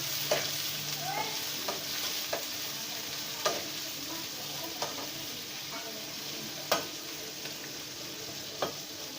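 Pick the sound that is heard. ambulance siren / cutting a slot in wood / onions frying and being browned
onions frying and being browned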